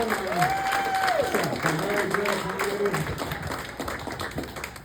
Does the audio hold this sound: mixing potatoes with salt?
no